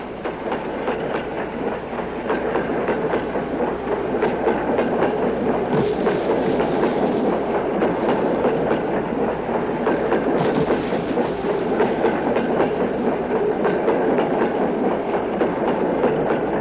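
A train rumbles steadily along the rails with rhythmic clickety-clack of wheels over joints, close and continuous.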